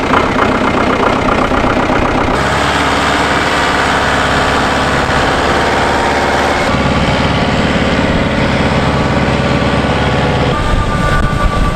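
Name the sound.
EB Alpine tractor engine running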